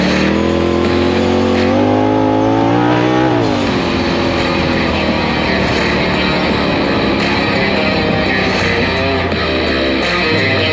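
A Polaris RZR Pro XP side-by-side engine runs loudly nearby, pitch dropping after a rev then settling into a steady, buzzing idle with no talking.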